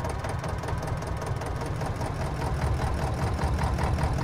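A tractor engine idles in Farming Simulator 22 with a steady, loud, rumbling knock that runs evenly throughout, with no voices over it.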